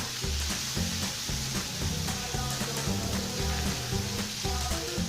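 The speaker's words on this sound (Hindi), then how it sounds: "1 टेबल स्पून इसमें लहसुन अदरक का पेस्ट में शामिल करेंगे। तो थोड़ा सा फ्राई कर लेते हैं," Garlic ginger paste fries in oil in a pan over medium heat, giving a steady close sizzle with soft stirring and scraping knocks throughout, no voices.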